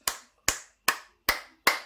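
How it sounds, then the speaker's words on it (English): Five hand claps ring out evenly spaced and close, each crisp and sharp with a quick decay into silence. "You deserve 5 claps."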